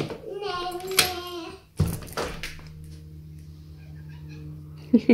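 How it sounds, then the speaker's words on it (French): A cat meows repeatedly to be let outside into the snow, several drawn-out, tonal cries close by, with someone speaking between them and a soft thunk near the end. "Regardez ma moumoute qui est en train de réclamer pour aller dehors."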